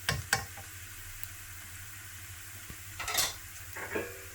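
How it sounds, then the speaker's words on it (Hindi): A teaspoon of ginger fries over medium-low flame in a pan, a soft steady sizzle broken by a few clinks of a utensil against the metal. "1 टीस्पून अदरक डाल देंगे"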